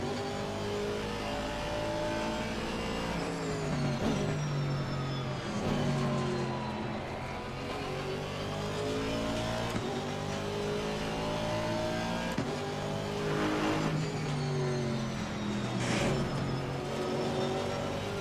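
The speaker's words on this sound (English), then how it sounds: "sometime I over rev a little bit because there's no sense in me shifting at the wrong point" Race car engine in a sim racing game screams through high revs, its harmonic pitch sweeping up and down with gear changes, at times held near the limiter, loud and steady throughout with no talk.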